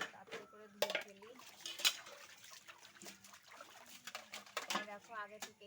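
Dishes and utensils are washed under water at a domestic sink, with clinks and clatters of metal and trickling water at close range, and a voice talks intermittently throughout.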